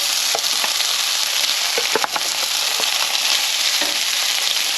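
Cold rice fries in warm oil in a frying pan, a loud continuous sizzle with a few scraping stirs, one sharper clatter near the middle.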